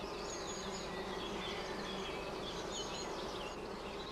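Honey bees at a hive buzz in a dense, steady drone, faint but constant from start to finish, with no voices.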